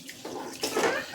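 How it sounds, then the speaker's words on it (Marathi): Water sloshes and splashes as grains are washed by hand in a pot, in a brief, soft burst while making homemade cereal baby food. "त्यामध्ये पाणी ओतू छानपैकी असं धुवून घ्यायचे धान्य"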